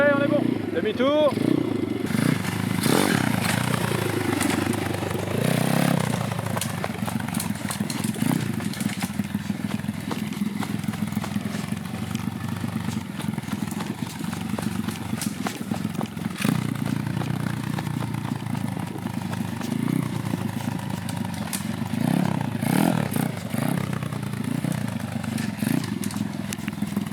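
A nervy dirt bike idles and revs on a woodland trail, the engine burbling and rising in bursts while French voices talk over it.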